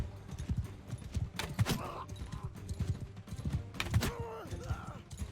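Hooves clatter in quick, uneven beats as a horse gallops into battle in Mount & Blade II: Bannerlord, with a brief whinny and scattered clanks in the background.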